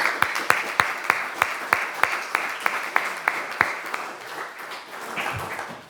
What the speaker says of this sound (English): Let's please show appreciation by a round of applause to Green Alliance.